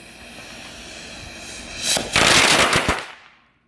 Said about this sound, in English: Well, that was a great explosion.